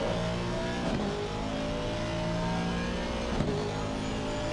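On-board engine of a GT race car in Assetto Corsa Competizione, accelerating hard up the start-finish straight at Circuit of the Americas during a 12-hour race, a steady loud rising drone with brief shift blips, with no talk over it.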